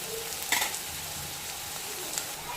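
Onions sautéing to golden brown in a pan for a Tamil chicken gravy: a steady, close sizzle of frying with a few brief stirring clinks, no talk.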